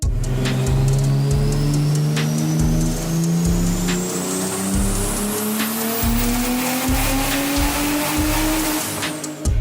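A turbocharged BMW E30 engine revs hard and loud up close, rising through the gears with sharp shift breaks and a climbing whine, running without pause.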